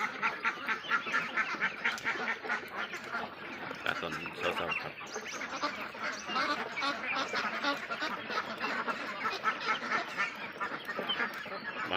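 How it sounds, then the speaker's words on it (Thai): A dense flock of ducks, including Muscovy and crested breeds, on a farm, quacking and honking continuously in overlapping calls at a moderate distance, with someone speaking at times. "บาร์บารี่ เป็ดหัวจุกครับ หลายพันธุ์ครับ"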